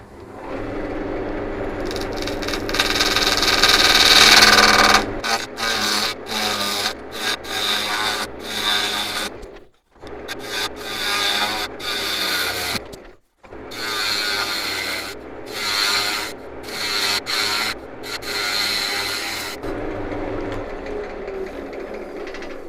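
A tool rasps and scrapes steadily across the surface of a segmented wooden clock blank as it is trued up, a loud, rhythmic rubbing broken by a few short pauses.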